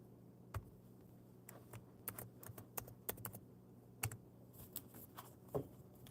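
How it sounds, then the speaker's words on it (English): Keyboard typing in a chat window, a run of light irregular clicks and taps close by, sparse at first then quicker bursts, over a quiet low background hum. "I'll even type it in here in the chat."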